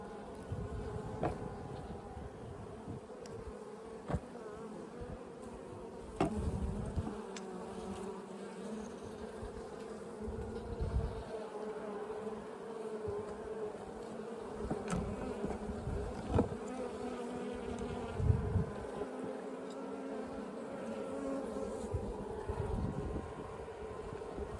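Honey bees buzz steadily around an open hive during a queen and colony assessment ten days after package release, a dense continuous drone with occasional close fly-bys and soft handling knocks, no talking.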